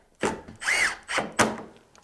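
A power drill runs in three short bursts, whirring up and down as screws bite into wood while fitting a door hinge on an ABS door, with brief pauses between, close and fairly loud.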